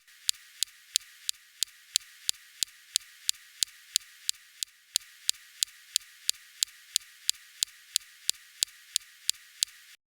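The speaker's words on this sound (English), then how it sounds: "Here's the sound of the laser zaps on Mars rocks." A rapid, regular series of sharp ticking snaps, about three per second, crisp and thin against near silence: a rover's laser zapping rocks on Mars.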